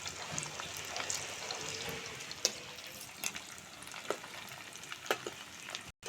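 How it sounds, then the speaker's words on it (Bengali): Pakora frying in hot oil while being stirred, a soft steady sizzle with occasional light clinks and scrapes, close by and fairly quiet, with no talking. "এগুলো নেড়েচেড়ে কিন্তু এইভাবে একটু লাল করে সুন্দর করে ভেজে নেব"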